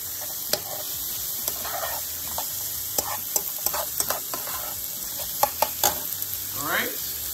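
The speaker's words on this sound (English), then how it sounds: "We're gonna give this a nice saute. Kind of let them develop a nice color." Finely diced ingredients sauté in a hot pan, giving a steady close sizzle broken by scattered stirring scrapes and clinks that continue throughout.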